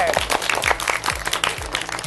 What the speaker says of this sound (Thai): ปรบมือให้กับตัวเองด้วย